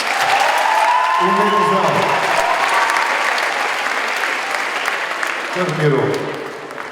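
Audience applause at a school charity concert, loud sustained clapping filling the whole stretch, with a voice speaking over it near the start and end.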